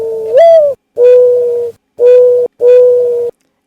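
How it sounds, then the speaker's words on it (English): A mourning dove coos in four steady, hollow notes, the first slightly rising, each separated by short pauses, loud and close with nothing else around. "Another backyard species, the mourning dove"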